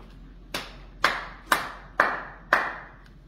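Five sharp, evenly spaced hand claps sound close by in a quiet space, roughly one every half second, each with a brief decay.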